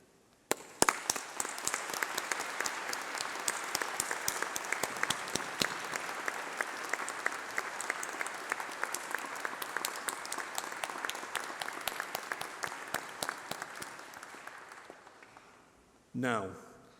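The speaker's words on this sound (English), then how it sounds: "let's have a round of applause for all of those special people" Sustained applause from a large crowd at a university graduation ceremony, dense steady clapping lasting many seconds before cutting off, followed by a brief rising tone at the end.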